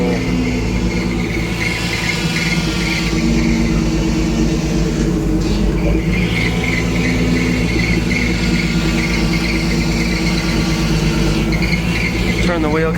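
Power steering pump on a 1979 Ford F-150 fitted with hydro-boost brakes, squealing and whining steadily under a loud idling engine as the wheel is turned, with a brief voice in the background.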